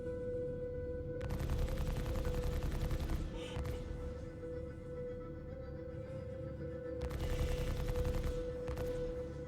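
Starlancer TAC ship weapons fire in Star Citizen in two long sustained bursts, each a dense rapid rattle lasting a couple of seconds, over a steady low engine hum.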